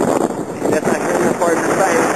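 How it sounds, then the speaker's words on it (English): Steady wind on a mountain near the summit buffets a microphone with a roaring, gusty rush, while a person talks over it. "And it's windy like"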